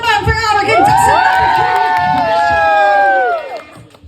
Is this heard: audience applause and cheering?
yes